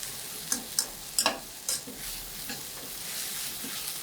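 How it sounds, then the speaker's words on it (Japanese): Onions stir-frying for a spicy beef curry, a soft steady sizzle broken by several sharp scraping strokes of a spatula across the pan, close and without talk. "玉ねぎに焼き色がついても構いませんので、ここもよくね、じっくりと5、6分炒めます"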